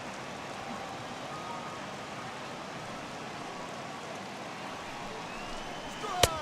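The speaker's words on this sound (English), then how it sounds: "I don't know how much more rain this field can take" Steady rain falls on a baseball field in the video game MLB The Show 18, a continuous hiss with no breaks. A sharp, loud tap or click cuts in near the end.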